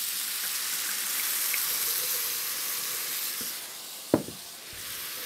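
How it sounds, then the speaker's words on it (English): A pan with browned sausage fond for a one-pot risotto-style pasta is deglazed with white wine, giving a steady loud hiss and sizzle with a brief clatter near the end. "So I'm going to deglaze that with a little bit of white wine."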